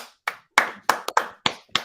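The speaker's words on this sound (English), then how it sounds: "give Monty a round of applause" Several sharp, close hand claps in a loose, uneven rhythm, with one quick double clap, like a single person clapping alone.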